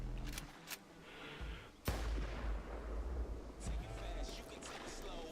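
A single sniper rifle shot, a Barrett, rings out in a PC video game shown at E3 2018, a sharp loud crack followed by rumbling reverb, with talk over the game audio.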